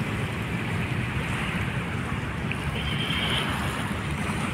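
Strong waves breaking along the edge of Manila Bay's dolomite beach, a steady broadband roar of surf with wind buffeting the microphone, continuous and fairly close with no speech.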